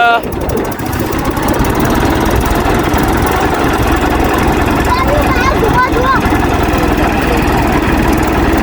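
A wheat thresher driven by a tractor runs loud and close on a farm, a dense continuous mechanical roar with rattling knocks and squeals, while people talk over it.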